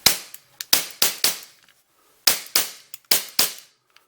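A KWC Model 75 blowback BB pistol dry-fires on CO2 with no BBs loaded, giving eight sharp, loud cracks in quick pairs and groups separated by a brief pause, close to the listener with no voices.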